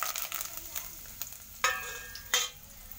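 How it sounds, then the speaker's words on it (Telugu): Tempering spices dropped into hot oil for lemon pickle, crackling and spitting in short sharp bursts, with two louder pops toward the end over a soft sizzle. "ఇంకా పోపు అయితే ఈ విధంగా వేస్తున్నాను చూడండి ఫ్రెండ్స్"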